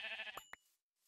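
A Minecraft sheep gives a short wavering bleat, close and clear, followed by a couple of soft clicks and then near silence.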